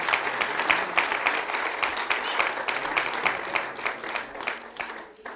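A church congregation claps together in praise during a Spanish-language service, a sustained crowd of hands with crisp individual claps, moderately loud and steady before easing slightly at the end.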